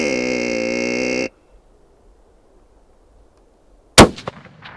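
A single sharp, loud rifle shot cracks out during a deer hunt in Montana, following a long steady electronic tone and a stretch of near silence, with a short ringing decay after the blast.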